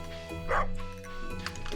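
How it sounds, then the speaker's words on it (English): A dog barking in the farming video game Stardew Valley, with a short yipping bark or two over a steady musical background. "I hear our dog."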